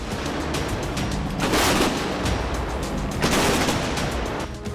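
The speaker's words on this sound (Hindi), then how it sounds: "ज्वाइंट वॉर ड्रिल के बीच उत्तर कोरिया के तोपें गरजी।" North Korean artillery guns firing during a joint war drill, heard as a dense, continuous roll of booms and crackling blasts with two louder surges, distant and sustained with no talk.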